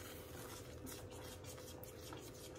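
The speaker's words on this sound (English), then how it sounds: "I do a constant stir just because I don't want to burn it" Homemade Dijon-style mustard stirred constantly in a pot as it thickens, a faint steady scraping and soft bubbling with no voices.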